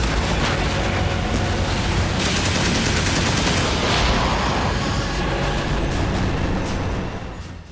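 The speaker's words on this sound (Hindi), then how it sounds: "तालिबानी लड़ाके मशीन गन से लोहा लेने लगे" Dense, continuous battlefield gunfire with rapid machine-gun bursts and heavy booming blasts, loud and close throughout as Taliban fighters engage Afghan army tanks; no voices.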